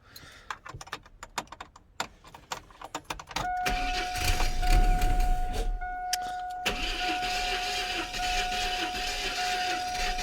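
A Chevy S10 4.3L engine with flooded spark plugs cranks repeatedly without starting, a steady mechanical whirr accompanied by a high electronic warning tone, after some earlier clicking and rattling.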